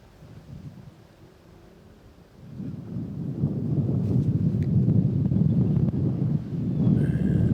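Wind gusts across an outdoor disc golf course at a tournament, a low broadband rumble that swells and strengthens partway through and stays loud and steady, with no talking.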